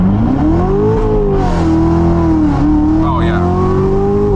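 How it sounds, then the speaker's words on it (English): A Corvette engine at full throttle, loud and close, one sustained rising roar with a steady harmonic whine that climbs, dips briefly at a shift, then pulls on; a voice talks faintly underneath. "This time we're gonna mash the throttle."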